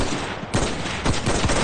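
Gunfire from an M1 Garand rifle in the video game Enlisted, a dense run of sharp shots and crackling battle noise that stays loud across the whole stretch.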